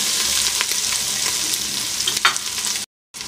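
Onion, ginger and garlic sizzle steadily in a hot pan, a close, dense frying hiss with a few stirring scrapes, broken by a brief cut to silence near the end before the sizzle resumes.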